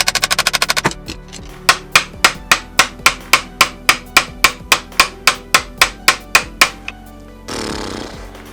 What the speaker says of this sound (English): I wedged this crowbar in here and I hit it till it seemed to hit the pin on the inside.